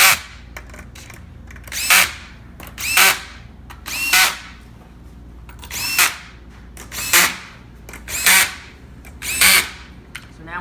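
A power drill tightens fasteners during a vehicle headliner installation, firing in about eight short, loud whirring bursts spaced roughly a second apart, with quiet gaps between.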